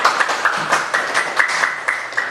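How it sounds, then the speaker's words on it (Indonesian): Classroom applause for a literature group after their presentation, a brief burst of many hands clapping with a rhythmic, slightly uneven patter at moderate volume. "Kasih tepuk tangan untuk kelompok sastra."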